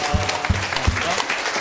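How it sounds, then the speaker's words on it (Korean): Church congregation at a Sunday service clapping in welcome, a brief burst of applause with a few heavier low thumps, close and loud over a short span. "박수로 다시 한번 환영합니다"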